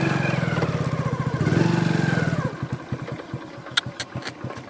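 A motorcycle engine running in first gear, with a steady throbbing drone that drops to a slower, uneven put-put as the revs fall, close by and loud, with no talk.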